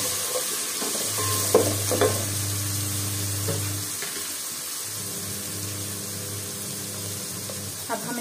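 Ginger and garlic fried with turmeric in a pan are stirred, with a sizzle beneath scraping spoon strokes and a low steady hum, all close and moderately loud, with no speech.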